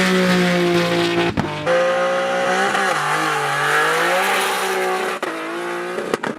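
Nissan R34 GTR swapped with a VR38 engine and exhaust exiting through the fenders revs and accelerates nearby, with a loud, rising and falling engine roar and brief tire squeal.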